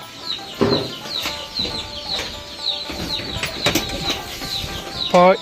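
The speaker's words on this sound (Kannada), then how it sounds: "ಇನ್ನೊಂದು ಕೋಳಿ ಮೊಟ್ಟೆ ಇಡಕ್ಕೆ ಬಂದೈತೆ" A free-range country hen comes to lay an egg, clucking softly and flapping its wings in bursts, with a short squawking cackle near the end against a quiet village yard background.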